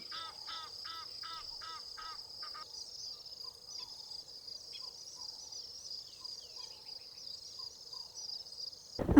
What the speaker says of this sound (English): I love the sound of the bush waking up with so many birds singing and flying above the river